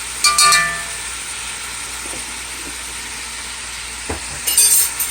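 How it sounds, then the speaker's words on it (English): Pepper steak made from deli meat is stir-fried in a pan on a stovetop, giving a steady hiss of sizzling with scraping stir strokes and sharper metallic clanks near the start and end. "Alright, turn up at my stove, come on to stir fry same way."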